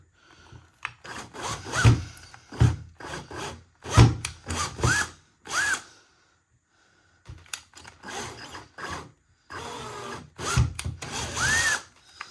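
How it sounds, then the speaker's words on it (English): A power drill whirs in repeated short bursts, drilling pilot holes into wood, with rising motor whines and pauses between holes, close and fairly loud. "Grab my drill, and I'm just going to pilot these with the drill."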